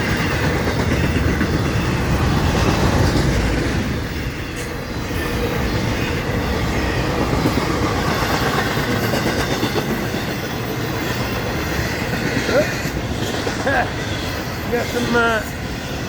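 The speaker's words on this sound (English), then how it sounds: "it's an FEC southbound train on this Wednesday night at about 10 p.m. here in St. Augustine, Florida" A southbound FEC freight train rolls past at night in St. Augustine, Florida, as a loud, steady rumble of railcars with rhythmic wheel clatter and faint squeals near the end.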